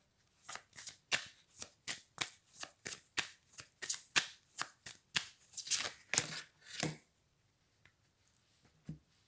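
Tarot cards being shuffled and laid down one after another, a crisp run of rhythmic riffling flicks close by that slows and fades into a few scattered soft taps near the end.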